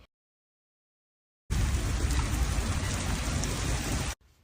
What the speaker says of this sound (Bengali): অঝোরে বৃষ্টি নামলো। সে কি বৃষ্টি!